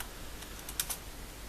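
Typing on a computer keyboard, a few faint, quick clicks in a short burst over a quiet background hiss.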